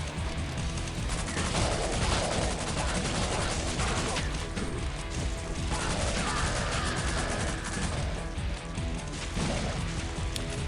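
Shotgun blasts in the Killing Floor game mixed into dense, loud combat noise with repeated shots, crashes and mechanical clatter running continuously throughout.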